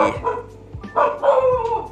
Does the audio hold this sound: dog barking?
yes